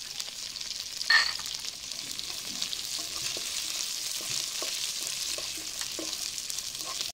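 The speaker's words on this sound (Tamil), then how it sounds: "பாருங்க நம்மளோட இஞ்சி பூண்டு வெங்காயம் பச்சை மிளகா குடமிளகா எல்லாம் வதங்கிச்சு" Ginger, garlic, onion, green chilli and capsicum sauté in a pan with a steady close sizzle. A brief louder scrape or stir comes near the start, and no one speaks.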